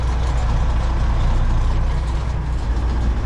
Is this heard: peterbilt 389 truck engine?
yes